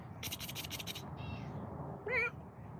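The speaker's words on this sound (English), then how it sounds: "Cat's gonna go in that garage." A tiger-striped cat near a garage gives a short, clear meow near the end, preceded by a burst of rapid scratching and rubbing noises, all fairly quiet and close with no talking.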